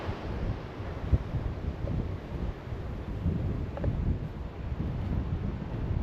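Strong surf rolls onto a windy beach at Paraparaumo, New Zealand, a continuous roar of waves mixed with wind rumble on the microphone, with no talking.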